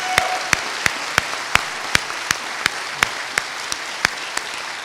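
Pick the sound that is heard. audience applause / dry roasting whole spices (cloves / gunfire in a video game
audience applause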